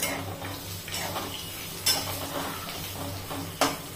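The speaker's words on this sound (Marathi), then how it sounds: "आता इथे बटाटे टाकून घ्यायचे" Boiled potatoes are stirred and fried in a pan with crushed green chilli paste, with a soft sizzle under the scraping of a spatula and two sharp metallic clinks, close up and with no speech.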